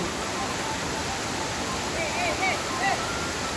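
Awao Falls, a waterfall, gives off a steady broadband rush of falling water, close and even throughout, with faint birdlike chirps near the end and no clear talk.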